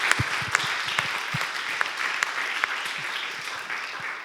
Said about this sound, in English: So I suggest that we give a big applause to Jaakko for putting it all together.